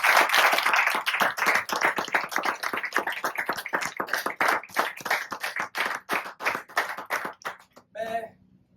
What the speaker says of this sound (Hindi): एक बार जोरदार तालियां बजा दीजिए अपने लिए।